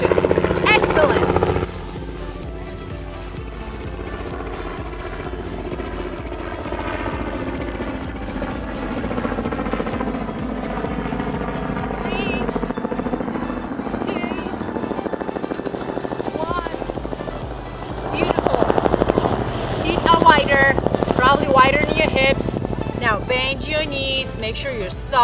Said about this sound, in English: Few more seconds until the helicopter will pass.